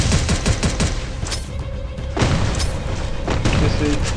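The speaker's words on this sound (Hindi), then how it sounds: "मेरे पास ग्रेनेड है एक बार ग्रेनेड करता हूँ" Heavy booms and rapid gunfire bursts in a Free Fire-style shooter match, with a grenade blast among the dense, loud explosive hits.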